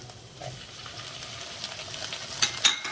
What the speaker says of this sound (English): We just want to saute them, right?